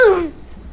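Player death sound in the Roblox game Mad City: a single short, bright chime with a falling pitch that fades within a third of a second.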